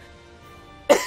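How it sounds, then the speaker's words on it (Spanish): A single sharp cough bursts out near the end, close and loud, after a stretch of quiet room tone. "perdón por la tos"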